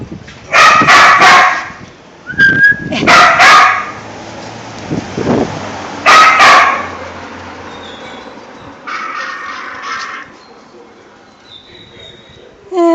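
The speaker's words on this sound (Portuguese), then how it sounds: "Vem cá, cachorrinho." A puppy gives several sharp yips and barks close by, with whimpers in between. People talk to it in a higher, coaxing tone.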